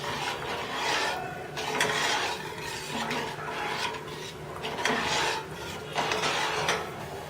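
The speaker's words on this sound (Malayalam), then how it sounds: "കടുക് വറുത്തതെല്ലാം മുകളിൽ വരുന്നവരെ ഇളക്കിക്കൊണ്ടേയിരിക്കുക." Steady scraping and rubbing of a spoon stirring buttermilk in a pot, with fried mustard seeds rising to the top, a continuous close rasp in repeated strokes while the moru curry cooks.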